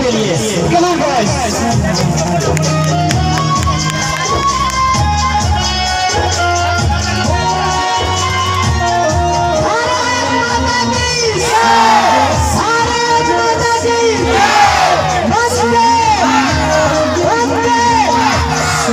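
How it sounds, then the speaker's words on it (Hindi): Crowd at a school event cheering, whooping and clapping for a children's performance, a sustained loud hubbub of voices with shouts rising throughout. "जोरदार ताली इन बच्चों के लिए।"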